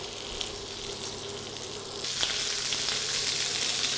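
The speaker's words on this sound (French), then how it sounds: "on va commencer par poêler les morceaux de viande" Pork medallions pan-frying in margarine, a steady close sizzle with crackling spits that grows louder and brighter about halfway through, with no voices.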